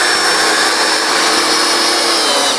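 Power screwdriver running steadily while driving self-tapping screws into wooden cladding boards on a timber-frame house facade, a loud continuous whirring drone held close for the whole span, with no talking.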